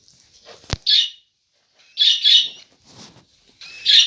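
A pet parrot lets out a series of shrill, harsh squawks in short bursts separated by quiet gaps, close and loud, with a sharp click near the start.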